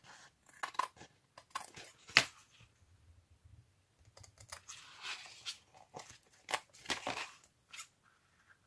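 Scissors cutting paper for a scented paper bag, close, quiet snips and rustling crinkles in short irregular bursts with pauses between, no speech.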